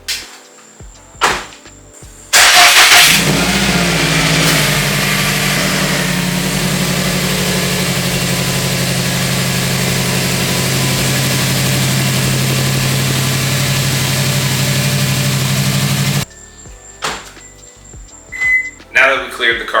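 A Subaru STI engine cranks and catches after a few clicks and knocks, then settles into a steady, loud idle for about fourteen seconds before cutting off, with handling noises around it.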